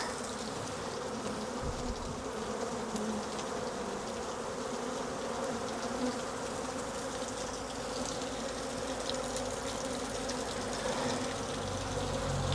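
Swarm of honeybees flying around an open hive after being shaken off a frame, a dense continuous buzzing drone, close and steady throughout.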